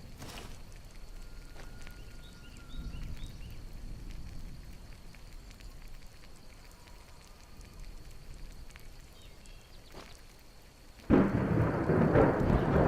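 Soft, steady rain patters under low rumbles in the video game Skyrim, then a sudden burst of heavier, louder rain near the end.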